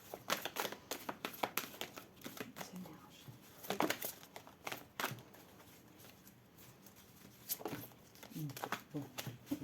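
Cards from a Laura Gaïa oracle deck being handled and drawn, quiet crinkling and papery shuffling in short bursts, close and soft, with someone speaking French throughout.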